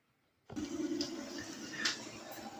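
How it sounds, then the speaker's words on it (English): Boiling water poured into a bowl of tofu soup, a steady rushing splash that starts abruptly after a brief silence and continues close and fairly loud. "And then lastly, add boiling water."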